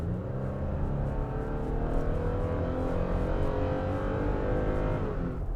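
The engine of a 2021 Toyota Tacoma pickup revs hard and steadily, a loud, close, continuous growl that climbs and holds for several seconds before easing off at the end, with no talking over it.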